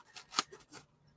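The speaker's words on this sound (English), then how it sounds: "it doesn't cut bad at all with scissors" Scissors snip through craft fun foam in a few quick, soft cuts lasting about a second. The sound is faint and close.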